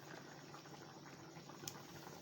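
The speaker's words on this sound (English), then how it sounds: "So I allow that to steam very well." A pot of pounded yam soup (Afia Efere) steams and bubbles on the stove in a soft, continuous simmering hiss with small pops and one brief sharp tick, faint and close, with no talking.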